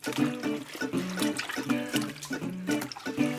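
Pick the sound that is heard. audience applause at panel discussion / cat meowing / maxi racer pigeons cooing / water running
water running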